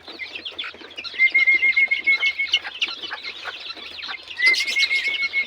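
Penned quail (bato-bato) being fed flap and scuffle close by in a rapid, busy patter of wings and chirps, with a couple of thin, sharp whistling calls cutting through.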